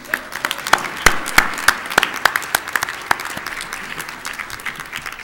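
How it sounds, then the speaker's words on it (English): Applause from a business meeting audience for an attendee standing up, a dense burst of clapping with sharp individual claps near the start that thins gradually over about five seconds. "give her her own round of applause as she stands up as well"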